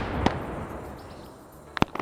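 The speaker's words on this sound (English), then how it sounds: "And I think that's the artillery coming in." Artillery shells landing in an Arma 3 SOG Prairie Fire Vietnam-era video game: one sharp, distant-sounding blast early, then a quiet gap before a cluster of three or four cracking impacts near the end.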